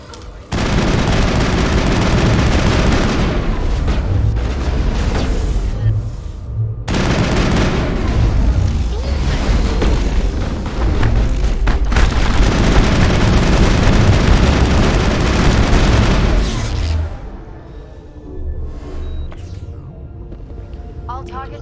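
Sustained heavy gunfire against Geth in the video game Mass Effect, dense continuous bursts with booming impacts lasting most of the stretch before dropping to quieter ambience, with voices heard over the combat.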